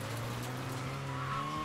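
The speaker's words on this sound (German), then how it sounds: "Auch wenn die Karre echt schon inzwischen Geräusche macht, als ob sie am liebsten Selbstmord begehen würde." A worn-out car in Mafia III drives with a steady engine drone, and a thin tire squeal rises over it as it skids, continuous and fairly close.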